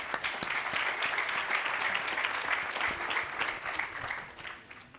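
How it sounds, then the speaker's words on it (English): A panel audience at an investor event applauds a speaker, with moderately quiet but full clapping from a room of people, individual claps standing out before the sound tapers off at the end. "let's give David a round of applause"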